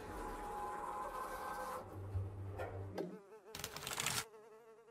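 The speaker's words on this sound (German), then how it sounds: "Fliege landet drauf." A fly buzzes in the video game The Inner World, a steady insect drone over a game soundscape, followed by several shorter sharp buzzing bursts near the end.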